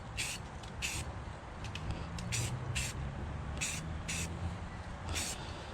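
Short hissing bursts from a spray can coating the edges underneath a louver, about eight quick sprays of uneven length over a low background rumble, close and moderately loud.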